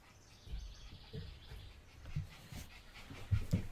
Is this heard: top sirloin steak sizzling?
no